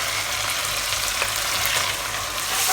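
Pork stir-fries in a pan for Hong Kong-style zha jiang noodles with ketchup and tomato paste, a loud, close, continuous sizzle with light stirring throughout and no talking.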